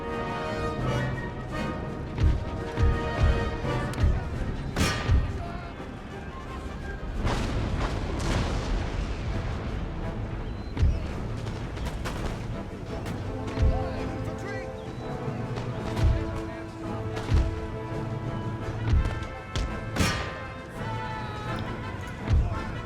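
Artillery fire in the Empire: Total War video game, with repeated heavy booms spaced irregularly over a continuous battle din, some shots loud and close, others more distant.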